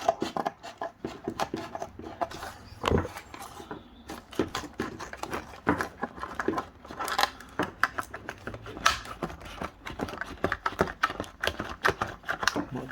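A Gerber Freescape folding camp bow saw is unboxed: close, busy crackling, tapping and rustling as its packaging is handled and pried open, with sharp clicks scattered through and no talking.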